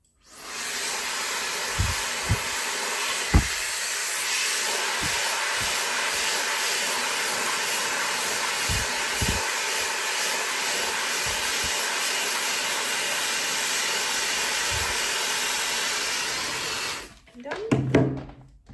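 A high-speed 1400 W hair dryer runs on hair with a steady, loud whooshing hiss and hum that holds for about fifteen seconds, with a few soft thumps, then cuts off and leaves brief handling noises.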